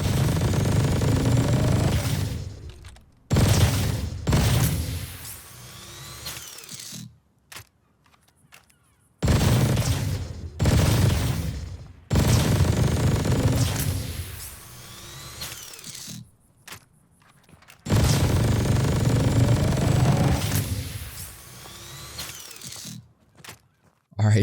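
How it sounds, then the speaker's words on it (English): EX1 energy weapon in Call of Duty: Vanguard fired in several long rapid bursts, a dense buzzing stream of shots with gaps between each burst, loud and close. "Let's go ahead and fire this weapon."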